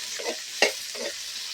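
Ginger garlic paste fries in a hot pan with a soft sizzle as a spoon stirs it in three brief scraping strokes, one sharper clink in the middle, close and quiet.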